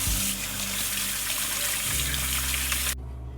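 Water runs steadily from a tap during handwashing, a close, continuous splashing rush with a low drone under it that stops abruptly near the end.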